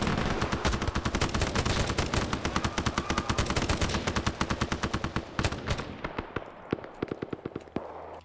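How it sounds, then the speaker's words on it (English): Rapid automatic gunfire rattles in a video game, dense bursts of shots close together that thin into separate single cracks near the end, loud and without talk. "heard gunfire at us, but not a lot"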